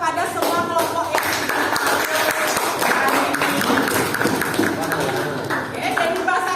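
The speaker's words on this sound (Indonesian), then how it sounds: "Kita berikan tepuk tangan kepada semua kelompok yang" A classroom group of students gives applause for all the presenting groups, a dense, steady clapping that fills the whole stretch with chatter and voices mixed through it.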